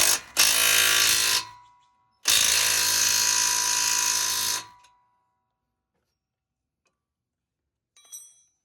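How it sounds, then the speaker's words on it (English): Two bursts of a cordless impact driver hammering on a car's front suspension nut during a Subaru Crosstrek spring install, a short burst then a longer one, loud and close, ending in silence with a faint click. "this impact driver that I'm using, it's kind of weak. It was barely enough to take my my nut off."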